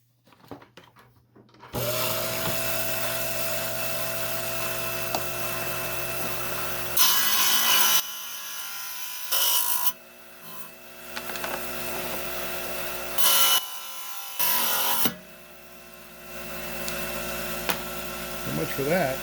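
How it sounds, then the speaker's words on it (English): A 5-inch trim saw whines steadily as it cuts through a piece of feldspar, the motor tone holding loud and close with several brief dips and surges as the blade bites and eases off the stone. "I'm down here in the 5-inch trim saw."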